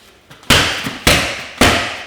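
Heavy punches hitting doubled-up boxing pads, three sharp, loud smacks spaced about half a second apart, each with a short slapping decay.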